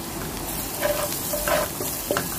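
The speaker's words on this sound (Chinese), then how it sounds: "继续翻炒" Onions stir-fry in a pan with cumin powder, giving a continuous loud sizzle with a few brief scraping stirs breaking through.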